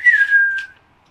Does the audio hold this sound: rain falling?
no